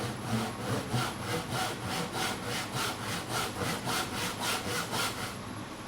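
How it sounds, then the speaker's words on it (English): A hand saw cuts down a marked line through a piece of timber, making steady, rhythmic rasping strokes, about a dozen even back-and-forth pulls, close and clear with no talking. "I'm making sure that the saw follows that line all the way down through that piece of timber."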